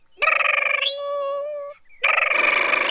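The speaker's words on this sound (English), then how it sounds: "he's sitting there, the phone rings, he picks it up" Cartoon telephone ringing in The Adventures of Tintin animated series, a loud warbling electric ring in two bursts separated by a held, softer tonal passage, close and with no talking.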